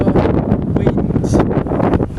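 Wind blowing beside the runway at Southampton airport on a breezy day, buffeting the microphone with loud, uneven gusts over a short stretch.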